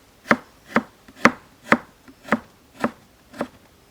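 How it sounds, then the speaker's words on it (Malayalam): Knife chopping chambakka (rose apple) on a board, seven even, crisp strikes spaced about half a second apart, close and clear with no talking. "മാങ്ങ അരിയുന്ന പോലെ നമുക്ക് അരിഞ്ഞെടുക്കാം"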